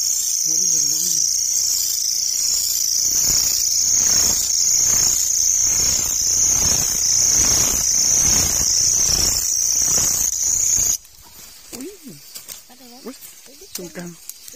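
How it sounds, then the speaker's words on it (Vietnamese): Loud, continuous high-pitched shrilling of a forest insect, stronger than a cricket, fills a wild woodland at close range for about eleven seconds and then stops abruptly. Voices talk quietly in the background during the call and more clearly once it ends. "Con gì kêu to hơn cả con dế nhỉ."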